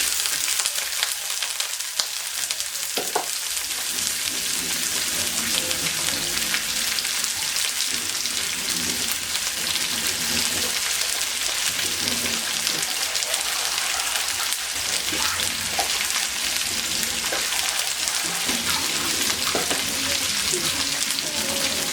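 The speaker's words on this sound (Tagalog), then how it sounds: "Parang iperprito muna natin yan para mawala yung taba niya." Pork and sausage fry in a pan to render their fat, giving a steady, dense sizzle throughout with occasional soft clicks of a utensil, loud and close with no talking.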